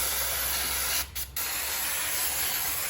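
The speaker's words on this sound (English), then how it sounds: "what we might do is just give it a good clean up with some degreaser" Degreaser sprays from an aerosol can onto an alloy-bodied Briggs & Stratton four-stroke lawn mower engine in a steady broadband hiss, briefly interrupted once before resuming, close and continuous.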